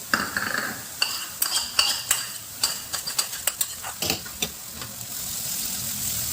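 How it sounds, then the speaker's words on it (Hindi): Garlic paste sizzles in a pan with onions, with repeated stirring and scraping clicks of a utensil, close and steady, no talking. "प्याज पकने के बाद हम उसमें 7 से 8 लहसुन की कलियों का पेस्ट डाल करके पका लेंगे।"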